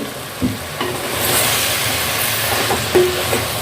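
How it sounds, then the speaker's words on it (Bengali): Fried peas and potatoes are stirred in a hot clay pot, giving a soft scraping and light sizzle with a few brief knocks of the spoon against the pot, close and alone. "এবার এটাকে ধরে আমি একটু নেড়ে নেব ভালো করে।"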